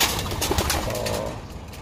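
Opal, a racing pigeon with a damaged wing, gives a short, soft, throaty coo, brief and close among faint surrounding noise.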